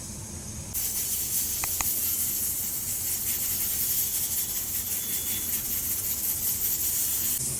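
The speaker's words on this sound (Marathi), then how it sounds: "थोडा कुकरचा आवाज येतो," A pressure cooker hisses with steady broadband steam in a home kitchen while paneer thecha is being made, the hiss starting abruptly and continuing loud and constant, with a couple of faint clicks early on.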